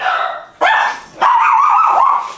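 Dogs at home in a house bark at a package delivery with three loud, close, drawn-out barks, the last one long and whining.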